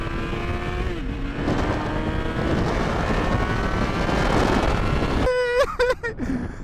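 A Honda CBR1000RR sportbike on a beach, its engine droning loudly and steadily, then revving sharply in several quick bursts of rising pitch toward the end as the rider goes for a wheelie.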